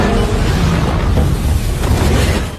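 A train explosion in an action film bursts as a loud, dense boom that fills the whole moment with a sustained roaring blast before trailing off at the end.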